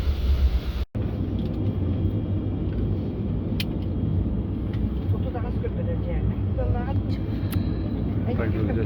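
A steady, loud low roar of engines fills the cabin of a small passenger plane on a flight in Yakutia, continuous and close throughout, with a brief dropout near the start and faint voices now and then.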